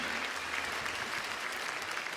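An audience at a music performance applauds in a steady, dense wash of clapping, moderately distant and even throughout.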